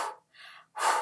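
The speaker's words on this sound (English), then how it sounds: "So I always encourage people to focus on breathing out whilst you're running." Breath sounds during running: a sharp breath at the start, a softer airy breath in the middle and a strong forceful exhale at the end, close and clear with no talk.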